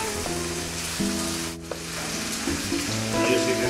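Pinchos morunos sizzle loudly in a pan as their sauce reduces, a dense, steady frying hiss close by, with a faint tonal hum underneath.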